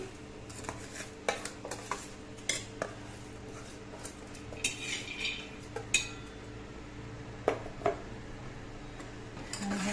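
Rice stirred in oil in a pot for palak paneer pulao, with intermittent clinks and scrapes of a spoon against the metal over a quiet background.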